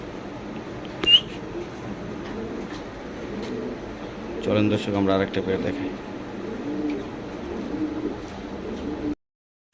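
A pair of Spanish pouter pigeons coo softly in the background while someone talks over them, with one sharp higher squeak partway through.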